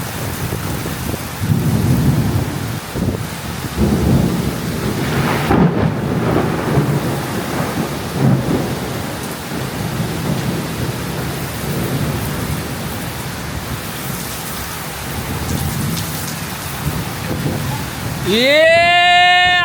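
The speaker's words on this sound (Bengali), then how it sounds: "দেখেন বৃষ্টির অবস্থা দেখেন" Heavy rain pours steadily throughout a thunderstorm with low rumbling thunder, loud and close, while voices talk over it near the end.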